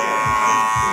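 Electric hair clippers buzzing steadily and close up while trimming a man's hair and beard, a brief continuous drone with no talk.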